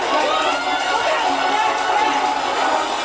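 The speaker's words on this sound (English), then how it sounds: "Why is everyone screaming?" A dense crowd of people screams and shouts in a Doctor Who episode scene, a loud continuous wall of overlapping voices with no pauses.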